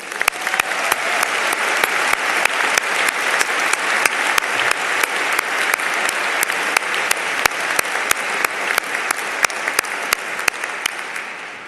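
Sustained, dense applause from a large audience at a Notre Dame graduate school commencement ceremony honoring award winners, steady clapping throughout with no talk.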